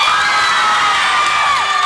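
Loud, continuous cheering and clapping from guests at a wedding, with high shouts and whoops ringing over the crowd for the full stretch.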